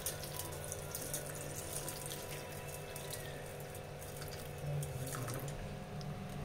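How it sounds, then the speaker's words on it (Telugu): Water is poured steadily into a turmeric mixture in a home kitchen, giving a continuous splashing, running sound up close with no talking, swelling briefly louder near the end. "కొన్ని వాటర్ పోసుకుందాం"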